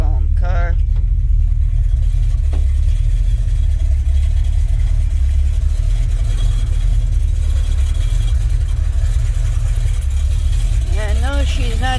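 An old $500 car with a tilt column idles steadily close by, its low engine rumble constant throughout, with a brief clatter early on and faint voices near the start and end.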